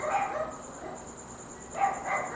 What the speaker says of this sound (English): we all hear the barking dog